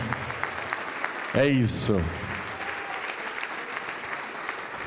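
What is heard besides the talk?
congregation applauding in church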